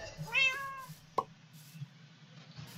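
A video game cat gives a clear, rising-then-falling meow, followed by a short sharp plop and quiet background hum.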